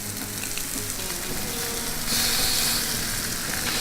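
Steak and an oil-coated lemon sizzle on a barbecue grill, a steady dense hiss and crackle that swells louder partway through as the lemon goes down, close and continuous without speech.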